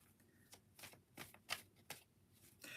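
Tarot cards shuffled and drawn from a deck, giving a string of soft, papery flicks and slides with a sharper snap near the middle, quiet and close with no talking.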